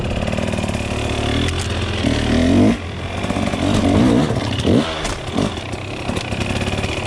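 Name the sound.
motorcycle riding on Dunlop tyres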